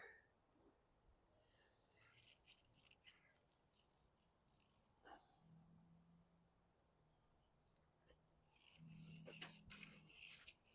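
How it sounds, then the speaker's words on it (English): A stiff brush scrubs a grimy carburetor part from a 2019 Craftsman M250 front-wheel-drive lawn mower, in two bursts of quick, rasping back-and-forth strokes close up, separated by a quieter pause. "Because the brush doesn't seem to be making a dent in this"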